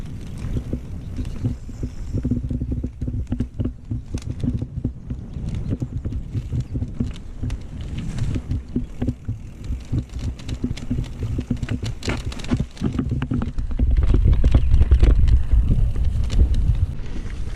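Horse hooves clip-clop in uneven steps on the ground nearby, with wind buffeting the microphone and the thudding growing heavier toward the end.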